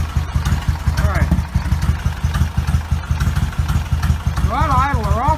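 Suzuki Intruder 1400 (Boulevard S83) motorcycle engine idling during a carburetor sync, a loud, close, steady lumpy thumping rhythm throughout, with someone talking briefly over it.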